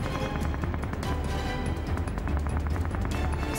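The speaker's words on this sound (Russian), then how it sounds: "Его бойцы начали обстреливать наступающих немцев из пулеметов «Виккерс»." Vickers machine guns fire in a rapid, evenly spaced burst of shots that runs continuously amid a rumbling battle din.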